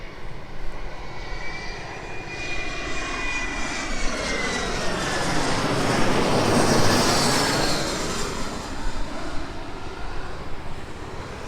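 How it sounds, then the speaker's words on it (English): A fixed-wing airplane passes low overhead near Myrtle Beach Airport at the south end of Ocean Boulevard, its engine roar swelling to a loud peak midway and then slowly fading, with no talk over it. "let's stop for this plane because I don't know if you'll be able to hear me"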